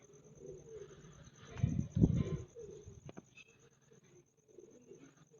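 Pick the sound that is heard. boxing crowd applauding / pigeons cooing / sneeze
pigeons cooing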